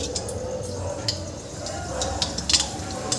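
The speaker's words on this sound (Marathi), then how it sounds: "आपली मोहरी तडतडल्यानंतर यामध्ये आपल्याला" Mustard seeds crackling in hot oil in a kadai, a soft continuous sizzle dotted with sharp little pops and ticks, close and fairly quiet.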